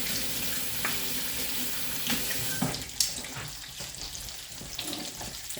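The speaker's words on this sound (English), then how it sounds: "Just wash your hands." Tap water runs steadily into a kitchen sink as hands are washed during breakfast cooking, splashing and sputtering with a few sharper knocks and splashes partway through, close by.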